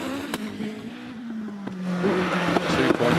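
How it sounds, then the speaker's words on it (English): A hillclimb race car at a British Hillclimb Championship event at Harewood revs and pulls away, engine pitch sliding as it accelerates into the distance, with sharp crackles and pops over the roar. "and revs rise and he's away."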